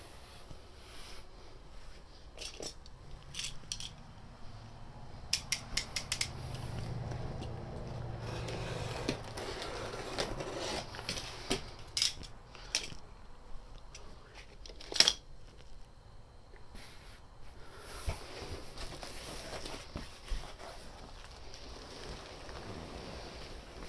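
A shipping box holding a headliner for a C10 Stepside pickup is cut open, giving scattered sharp slicing and crinkling sounds with brief louder rips amid quiet rustling.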